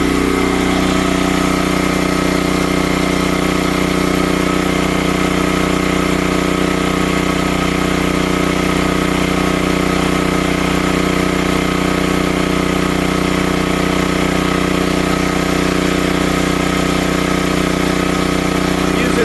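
A Predator 13000 watt generator runs on propane while powering a whole house with the air conditioning on, giving a steady, loud, unbroken engine drone with a constant mechanical hum throughout.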